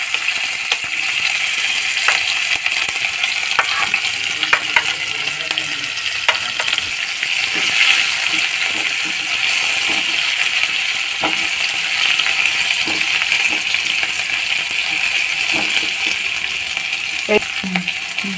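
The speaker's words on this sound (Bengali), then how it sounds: "এবারে কুচনো পেঁয়াজটা দিয়ে দিলাম।" Chopped onion sizzles steadily in a hot pan, a loud continuous frying crackle with occasional light clinks and stirring taps throughout.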